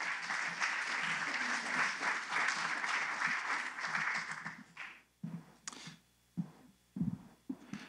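An audience applauds to welcome speaker Ed Lengel, with dense, sustained clapping that fades over about five seconds and leaves a few scattered claps and room noise.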